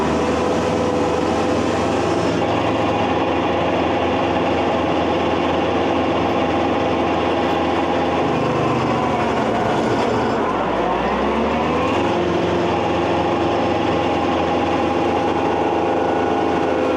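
A forestry mulcher mounted on a tractor runs loud and steady at close range, its engine droning throughout and dipping briefly under load before revving back up.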